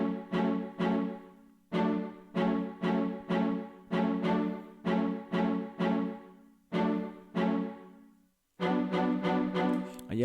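Short, bright spiccato string stabs from the Nexus plugin play a bouncing syncopated dancehall riddim pattern, clusters of quick plucked-bow notes separated by brief gaps, clear and up front with no voices.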